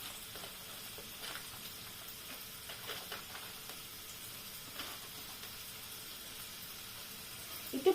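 Garlic and onion frying in a pan after the pork fat has been rendered, giving a steady, low sizzle and hiss throughout with a small clatter near the end.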